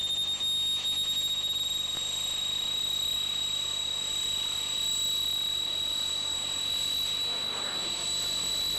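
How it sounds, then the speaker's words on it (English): Steady loud roar and high whine from the two small jet engines of a jet trainer aircraft at the RIAT 2002 RAF Fairford air show, a continuous close drone with a piercing sustained tone throughout. "Two tiny little jet engines of only 880 pounds of static thrust each power this aeroplane"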